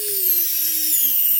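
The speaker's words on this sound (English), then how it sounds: "As you can see, my power tool is even struggling to get it in there." A power drill strains as it drives screws into a Nespi soft shutdown V2 circuit board, giving a steady high whine with a slowly falling motor tone, close and alone.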